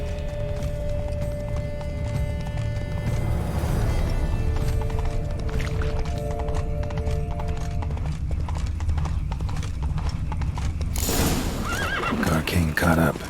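Spooked horses in the Witcher 3 video game: rapid hoof clip-clop runs under sustained tones, then a loud, sharp whinny breaks out near the end.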